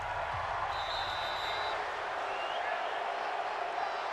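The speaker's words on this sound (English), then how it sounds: "The crowd here in the Dome making things difficult" Broad, steady stadium crowd roar fills a domed arena during an NFL football game between the Philadelphia Eagles and New Orleans Saints, a continuous loud wash of voices with no breaks.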